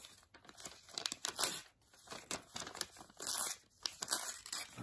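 A piece of paper being cut at the edges, giving quiet, close crinkling and snipping sounds in irregular bursts, with no talk.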